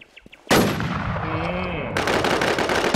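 Loud gunfire from the shooter game Infestation: a sharp burst opens a sustained barrage with a ringing tail, followed by another dense stretch of rapid shots.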